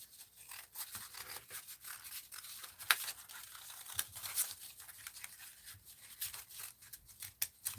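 Paper being cut by hand for a papercut design, soft close snips and rustling with scattered sharper clicks from the blade, spread across the whole stretch with no talk.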